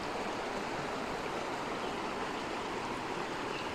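Clean water streaming over rocks at Batong Burlas in Sitio Kilat, San Gabriel, La Union, a steady, dense rushing wash close by, unchanging throughout with no voices.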